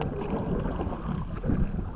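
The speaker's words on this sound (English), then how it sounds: "And the wind is against us, like 5-mile-per-hour wind." Wind of about five miles per hour blows against a Dagger Crossover 12.5-foot kayak on open water, a brief rough rush of microphone buffeting with light water sounds, close and steady.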